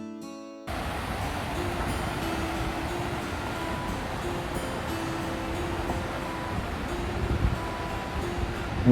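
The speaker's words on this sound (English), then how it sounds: "And the trams are running all along the road," A Melbourne tram runs along a city road, a steady broadband rumble with faint tonal whine that holds for several seconds after a brief quiet start, with no voices over it.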